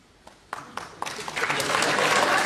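A comedy show audience starts applauding, beginning with a few scattered claps and then swelling quickly into full, steady applause from a crowd.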